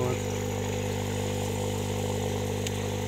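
A membrane diffuser disc aerator runs on a compressor, making a loud, steady motor hum with constant airy hiss that stays unbroken throughout, with no talk.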